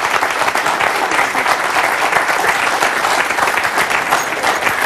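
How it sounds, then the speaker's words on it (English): A studio audience claps steadily and loudly for a medium-reading guest, a dense, even wash of applause that carries on without a break. "please, a nice hand of applause for Janet and Benji"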